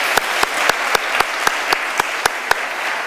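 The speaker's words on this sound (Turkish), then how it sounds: "Önce onu bir alkışlayalım." Audience applause at a Turkish-Mongolian research workshop session, steady dense clapping for about three seconds with a few sharper claps standing out at a regular beat, no talk over it.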